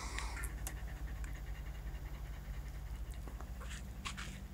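A dog lying at a canyon viewpoint pants steadily, quick rhythmic breaths close to the microphone over a low background hum, with no talking.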